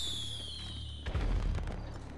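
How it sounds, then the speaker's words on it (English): A firework bursts in GTA Online after a rising whistle, a low boom followed by crackling that fades, fairly faint overall. "Whiskey, did you catch my firework on camera?"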